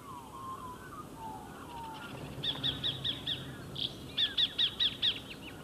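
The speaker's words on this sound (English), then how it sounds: "when it comes to Australian bird calls, there's none as famous as that of the laughing kookaburra" Australian countryside birdsong with a rhythmic series of sharp, repeated calls in two bursts of about five notes each, clear and fairly close against a quiet background, following softer whistled notes.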